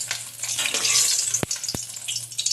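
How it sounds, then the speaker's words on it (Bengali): Lentil badi (split black gram dumplings) frying in hot mustard oil, a steady soft sizzle with faint bubbling and a couple of brief sharp clicks, close and without talk. "এই তেলের মধ্যে তেলটা গরম হয়ে যাওয়ার পর বড়িটা ভেজে তুলে নিচ্ছি"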